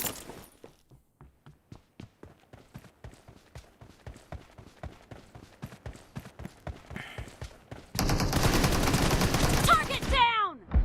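Rapid gunfire spray in PUBG Mobile, a long run of evenly spaced sharp shots that quickens and thickens into a loud continuous burst near the end.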